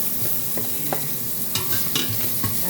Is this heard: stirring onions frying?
yes